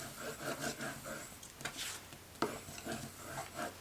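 A paper piece is burnished by hand while assembling a baby girl mini album, giving soft, close rubbing strokes in several short bursts with brief pauses between them.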